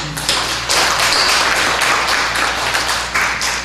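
A church congregation breaks into loud, sustained applause for the True Parents during a family church worship service, dense steady clapping that fills the room without pause.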